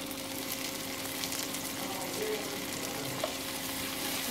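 Chopped tomatoes sauté in a pan over golden-brown onions for a methi mutter malai curry, giving a steady, moderately loud broadband sizzle with faint stirring scrapes and no talking.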